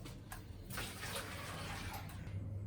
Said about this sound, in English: we can discard this water